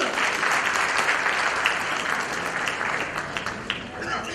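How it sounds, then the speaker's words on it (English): Audience at an educational merit prize awards ceremony applauding the singers, a dense, continuous wash of clapping from a large crowd with some voices mixed in. "So one more round of applause for the singers"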